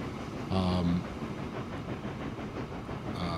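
Modded train running in Transport Fever, the Alps map, with a continuous rumbling roll and rhythmic clatter plus a brief tonal horn-like blare near the start, heard steadily at moderate volume.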